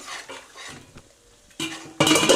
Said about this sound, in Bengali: ঢাকনাটা খুলে দেখি বন্ধুরা কতদূর কী হলো।